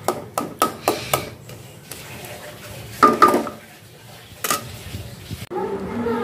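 Plates handled and set out for a home meal in a Bangladeshi kitchen: a quick series of sharp clinks and knocks of dishes, then more clattering, with a voice speaking briefly near the end.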